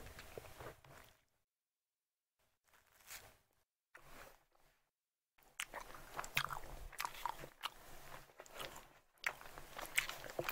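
Someone eating at close range makes quiet crunchy bites and chewing in irregular bursts, separated by short silent gaps, with no talking.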